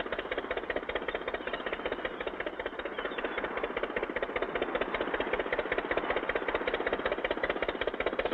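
A boat engine in a 1959 cartoon chugs with a fast, steady rattling pulse as the boat pulls away from a dock toward open sea, fairly faint and continuous throughout.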